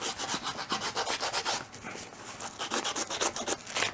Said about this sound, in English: just sanding the basically rough edges off